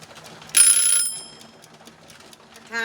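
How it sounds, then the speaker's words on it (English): A kitchen timer rings during pressure canning of potatoes, a bright metallic bell burst lasting about half a second with a faint tail, followed by a quieter second ring near the end. "Timer's gone off."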